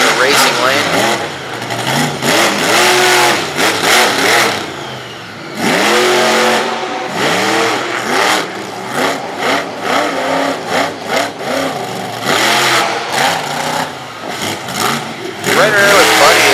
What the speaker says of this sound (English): You can hear the power as he winds it up and back to the racing lane.